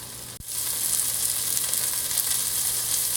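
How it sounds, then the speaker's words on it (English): Pork browns in a hot pan with a loud, steady sizzle and hiss that carries on evenly after a brief clunk at the start. "We'll lay that flat and let it brown, and then I'll brown it on each side."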